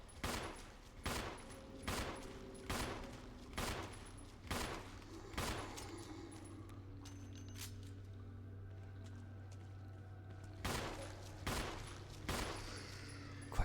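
Repeated gunshots aimed at zombies in the Resident Evil 1 Remake, loud evenly spaced bangs roughly every half second, then a pause over a low hum before a few more shots at the end.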